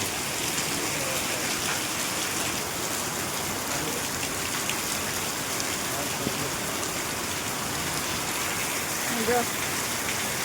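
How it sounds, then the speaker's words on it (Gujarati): Steady, dense rain patters hard on a tin roof, a continuous hissing drumming with no breaks. "પતરા છે ને તો પતરા વાળું જોજે ને એટલે કેવો અવાજ આવે"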